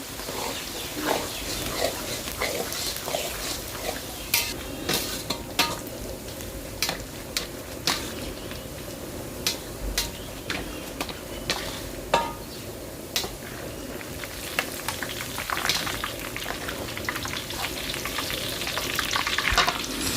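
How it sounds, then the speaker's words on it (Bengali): Sliced onions sizzle in a large pan of hot oil for a hotel-style Bangladeshi chicken roast, a steady frying hiss broken by frequent clicks of a stirring utensil against the pot. "ষাট পিস রোস্টের জন্য আমরা পেঁয়াজ ব্রেস্তা করব"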